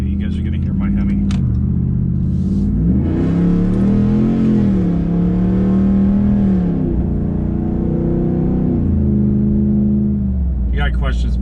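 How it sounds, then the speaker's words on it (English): Hemi V8 in a 2019 Ram Power Wagon with an aftermarket exhaust revs up loudly and steadily, a deep droning rumble rising and falling through the middle of the clip before settling back to idle, with no talking over it. "you guys are gonna hear my Hemi"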